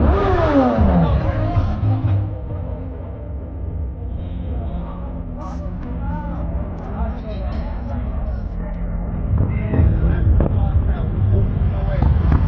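A motorcycle engine revs amid a crowded garage grand opening, loud bursts rising over steady crowd chatter and people talking nearby.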